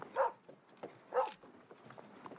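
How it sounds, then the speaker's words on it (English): A dog in the Oregon Trail video game barks twice, each a sharp, fairly close bark about a second apart, with fainter game sounds and a soft tone between them. "The dog barks as the party leaves, seemingly saying goodbye."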